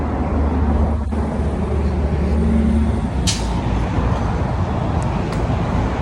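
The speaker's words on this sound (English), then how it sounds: "let the cars pass by" Cars and other road vehicles passing on a street, a loud continuous traffic roar with a low engine rumble, one brief hiss like an air brake, and no talk.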